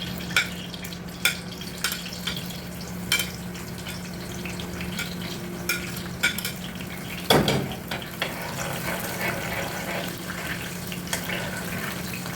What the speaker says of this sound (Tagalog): Igisa natin yung bawang hanggang sa mag golden brown siya